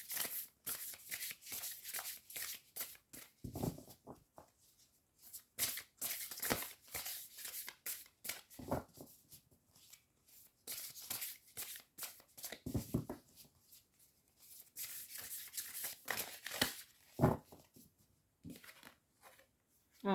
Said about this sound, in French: Alors je mélange un peu.